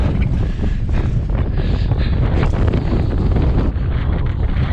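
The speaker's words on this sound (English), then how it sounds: "At least this wind's drying out my coat." Strong wind roars steadily across a microphone on an exposed coastal clifftop during a wet, rainy marathon, a loud, continuous buffeting rumble with no voices.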